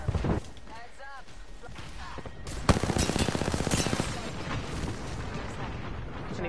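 Rapid gunfire rattles in a shooter video game, a dense burst of shots around the middle over constant game noise, with a player's voice speaking over the action.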